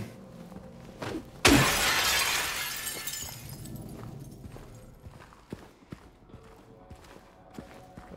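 Glass shatters once in Silent Hill 2, a sudden loud crash trailing into a few seconds of tinkling debris, followed by scattered footsteps.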